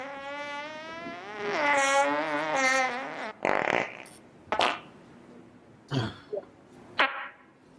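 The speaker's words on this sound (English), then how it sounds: "Was that a fart?" A loud, close, drawn-out fart rasps with a wavering buzzy tone for about two seconds, followed by several shorter, sharper blasts in a quiet room.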